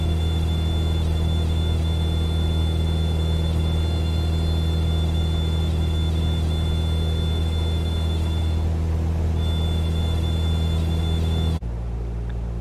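Light aircraft engine at full throttle during a slow-flight climb, a loud steady droning hum with a constant tonal whine from inside the cockpit, continuous until it cuts off abruptly near the end.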